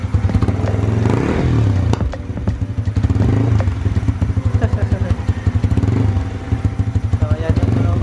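A Yamaha Sniper 150 motorcycle idling close by with a new aftermarket exhaust, a loud rapid throbbing putter with short revving surges, while someone talks over it.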